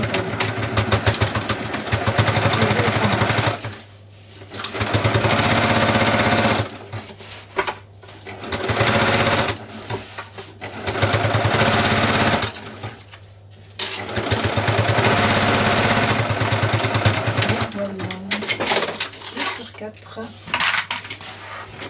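Sewing machine stitching a lined, waterproof beach bag with a zippered pocket, sewing 1 cm from the top edge; loud rapid mechanical whirring in several bursts separated by short pauses, close up.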